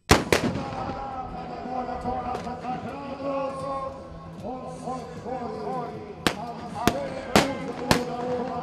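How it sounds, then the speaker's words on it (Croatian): At an Omiš pirate battle reenactment, loud pistol and cannon shots crack out. Two sharp bangs open the scene, and four more ring out near the end over a background of crowd voices and music. "čuli su se pucnji kubura i gusarskih topova"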